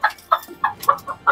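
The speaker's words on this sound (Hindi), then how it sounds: "एक ये मुर्गी वैसे बैठी है" A hen sitting close by in a village home clucks in quick, loud, regular bursts, about five clucks in just over a second, heard alone.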